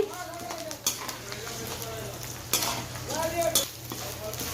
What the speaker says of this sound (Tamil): இந்த தேங்காயும் இதில் போட்டு நல்லா செவக்க வறுத்துக்கணும்